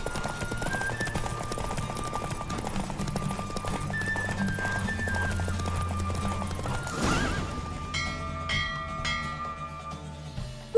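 Rhythmic hoofbeats of a galloping horse in The Witcher 3: Wild Hunt clatter steadily under music, with a horse whinnying partway through.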